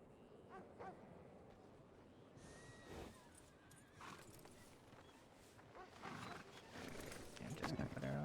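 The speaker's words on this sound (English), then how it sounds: "But Emily's a nice horse" Horse whinnying in a roleplay video game, a loud neigh over ambient game sounds, with someone talking throughout.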